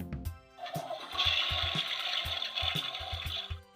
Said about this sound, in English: Elmo likes to hear the water whooshing around and around.